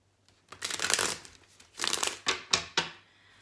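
Cards riffle-shuffled several times in quick succession, crisp fluttering bursts close up, no talking.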